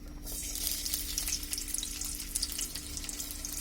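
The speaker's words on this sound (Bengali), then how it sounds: "আমাদের তেলটা গরম হয়ে আসলে এর মধ্যে যে পেঁয়াজ কুচিগুলো আছে সেটা দিয়ে দিব।" Chopped onions fry in hot oil for a chicken korai gosh, producing a loud, continuous close-up sizzle and crackle with faint stirring and no talk.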